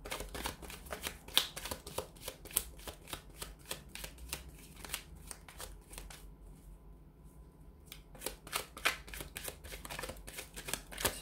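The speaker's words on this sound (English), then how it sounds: "So we'll go ahead and give the cards a shuffle." A deck of tarot and oracle cards is shuffled continuously in a quiet room, with dense rapid riffling clicks that pause briefly midway and then resume, close and fairly soft, with no talking.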